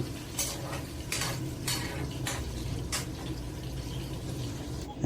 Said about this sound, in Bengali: পেঁয়াজগুলো ভালো করে মিক্স করে নেবেন তেলের মধ্যে তাহলে জলদি হয়ে যাবে পেঁয়াজ